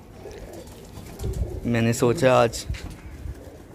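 Pigeons in a Lahore rooftop breeding loft coo softly in a short burst of throaty, pulsing calls, close by, while someone speaks over and around them.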